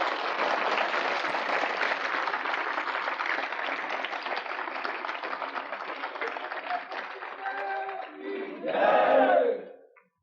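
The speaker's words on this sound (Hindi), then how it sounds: "ताली बजाइए आप जोर से।" An audience at a Rajrajeshwari sadhana ritual session claps loudly for several seconds. A sustained, dense crowd applause fades slightly, then gives way to a short swell of cheering voices before it cuts off.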